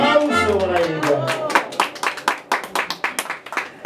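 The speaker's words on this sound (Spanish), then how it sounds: "El aplauso para ella." A voice speaks briefly, then a small group claps for the birthday girl at a mariachi birthday celebration, the claps uneven and fairly close, building into a loose rhythm.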